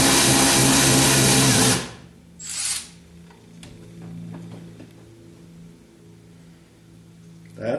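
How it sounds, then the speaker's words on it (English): A power wrench spins on a seat bolt in a 1976 Corvette restomod, a loud steady whirring burst up close that cuts off, then a short second burst, followed by quieter clinks and handling of the bolt. "looks like it's got a little more room for a power wrench"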